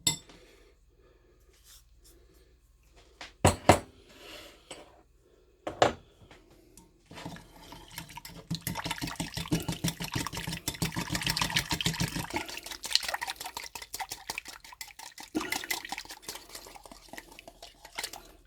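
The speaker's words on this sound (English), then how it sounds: "So now we're going to stir this good. Blend it with our olive oil." A few sharp clinks of a utensil against a container, then steady scraping and swirling as a turkey injection marinade is stirred together with olive oil, continuing close by for several seconds.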